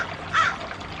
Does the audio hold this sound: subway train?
no